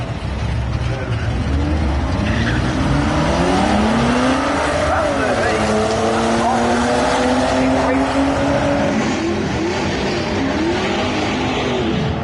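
A matched pair of Chrysler Crossfire cars launch in a drag race at a Mopar event, engines revving hard with rising and falling pitch sweeps as they accelerate away, loud and close under announcer-style talk.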